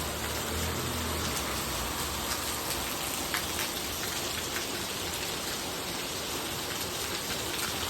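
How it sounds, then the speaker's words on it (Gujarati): Morning rain falls in a steady, dense hiss of drops striking surfaces, even and unbroken from start to finish, with no voices. "ત્યાં ડાયરેક્ટ વરસાદ આવી ગયો હરે હજે."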